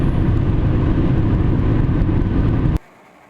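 A vehicle engine drones steadily and loud while backing up in windy, stormy weather, then cuts off abruptly near the end, leaving quiet.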